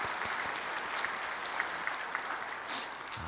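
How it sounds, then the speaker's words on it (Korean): A church congregation applauds the choir after an Easter cantata at a Sunday service, a steady wash of many hands clapping throughout, with no talk. "박수 한번 더 하도록 하겠습니다"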